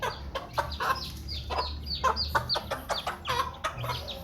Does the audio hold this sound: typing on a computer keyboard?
no